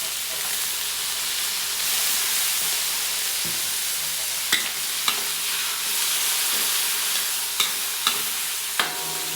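Smoked fish (tinapa) being stirred in a hot pan with fish sauce, giving a steady sizzling hiss broken by several sharp scraping clicks of the utensil, close and alone without any voices.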